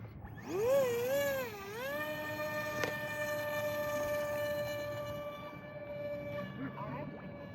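An RC Aeroscout plane on homemade floats revs up and lifts off a lake, its electric motor whining upward in a rising, wavering pitch before holding a steady high drone, loud and close with wind noise underneath.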